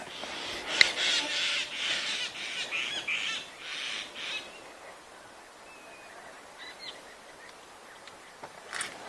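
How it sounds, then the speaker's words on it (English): Birds call faintly around a safari vehicle at sunset in the bush, a scatter of raspy squawks and chirps over quiet background, busier at first then thinning out. "If you listen carefully, you will hear some birds around us."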